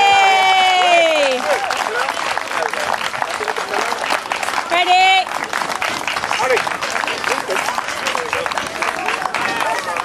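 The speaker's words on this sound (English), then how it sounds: "give a big round of applause for" A big outdoor crowd at a Highland Games claps and cheers loudly and steadily, with whoops and a host's amplified voice speaking over the applause and calling out.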